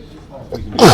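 A single sharp sneeze bursts out at the end after a quiet breathy intake, loud and close to the listener.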